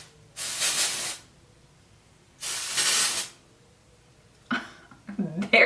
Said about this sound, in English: actually this is a texturizing spray.